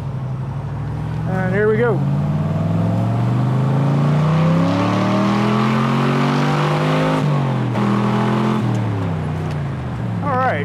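A warmed-up 1967 Corvette convertible engine is revved hard up to about 6,500 rpm, the loud exhaust note climbing, holding, then falling before a second brief blip. Someone talks briefly over it.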